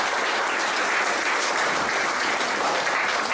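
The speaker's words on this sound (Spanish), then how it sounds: "Un aplauso para el consejero de la Junta." Dense, loud applause from an audience for a regional government councillor at a values workshop event, continuous clapping from many hands filling the whole moment without a break.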